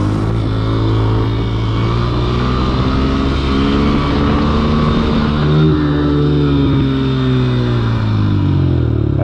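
Four-stroke motorcycle engine held at a steady, loud drone with rising and falling pitch as it revs, close by and continuous with no voices.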